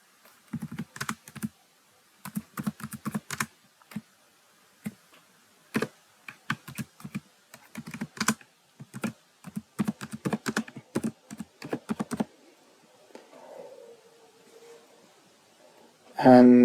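Typing on a computer keyboard to enter a template name, with quick bursts of key clicks separated by short pauses and a brief sharper sound at the end.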